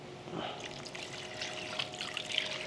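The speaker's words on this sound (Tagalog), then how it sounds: "Then, maglalagay lang tayo ng konting tubig." A little water poured into a pan of chicken hamonado with marinade, a soft steady splashing trickle at moderate distance, fairly quiet and continuous.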